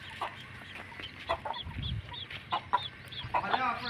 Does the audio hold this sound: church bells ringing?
no